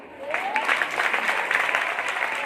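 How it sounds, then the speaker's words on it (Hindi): A crowd at a Shrimad Bhagavat Katha religious gathering gives sustained, moderately loud applause, with a brief vocal sound near the start. "इतनी कमजोर तालियां आपके लिए"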